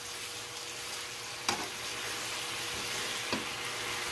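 Meat for a stir fry sizzles steadily in a pan, a continuous frying hiss with two brief scraping stirs partway through, close and fairly quiet, no voices.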